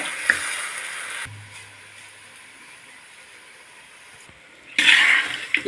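Hissing sizzle of country chicken meat frying in a pan without water, loud at first, quieter in the middle, then flaring up again near the end.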